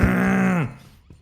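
A person imitates a bear with a low, rough, sustained growl lasting over half a second, close and loud, then fading to quiet.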